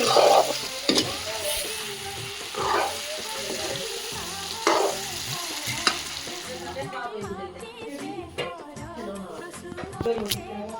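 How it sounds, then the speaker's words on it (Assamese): Meat fries in a hot pan with a continuous sizzle, punctuated by spaced scraping stirs and metallic clinks, the hiss thinning toward the end. "আৰু এইয়া ধুনীয়াকৈ মাংস ভাজি আছে দেই।"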